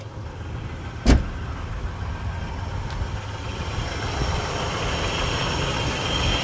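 A 1993 Nissan Pathfinder with a replacement engine and new serpentine belt idles steadily nearby, a continuous low rumble with one brief sharp click near the start and no talking.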